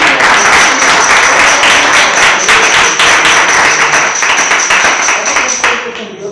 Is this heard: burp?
no